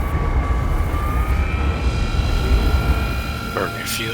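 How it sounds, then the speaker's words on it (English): Spaceship engines idle in a space-mining video game on Ariel, a steady loud broadband rumble with sustained whining tones throughout, a brief higher burst near the end. "He said leave the engines on."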